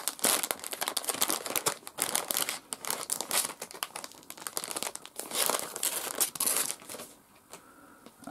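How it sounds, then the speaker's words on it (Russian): A crinkly plastic parcel bag from AliExpress is handled and opened close up, giving continuous loud crinkling and crumpling with sharper rustling bursts throughout. "С Китая пришло вот такой вот пакетик. Мы посмотрим, что в нем."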